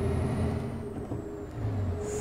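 A city bus in the OMSI 2 bus simulator game pulls away, its diesel engine droning and rising in pitch with a steady whine as it gains speed, heard alone.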